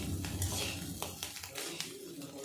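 A spoon scrapes and clinks in a pan while stirring a bitter gourd fry, with soft sizzling underneath and a few sharper metallic knocks against the pan.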